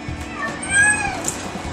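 Several cats meow and caterwaul inside a car on the way to the vet, with high, drawn-out cries overlapping against a low rumble of road and engine noise, fairly close and moderately loud.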